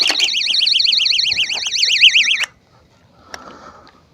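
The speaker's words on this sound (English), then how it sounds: "this time we had the alarm go off" A bite alarm goes off while fishing at Lake Mead: a loud, close, warbling electronic tone wavers rapidly for about two and a half seconds, then cuts off, leaving quiet with a faint click.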